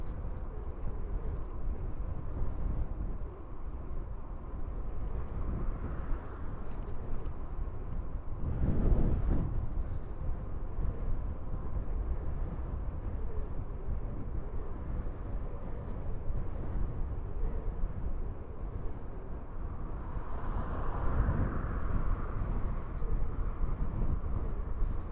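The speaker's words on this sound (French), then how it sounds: "il y a un maxi vent de face là. Bien violent." Continuous, heavy headwind rumbling and buffeting against a microphone on an electric mountain bike ride, steady throughout with a couple of stronger gusts.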